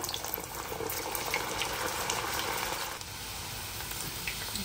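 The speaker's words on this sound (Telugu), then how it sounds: "సో వీటిని మంచిగా దోరగా వేయించేసుకోవాలన్నమాట" Indian gooseberries (amla) fry in hot oil, giving a steady, close, even sizzle that crackles softly throughout with no talking.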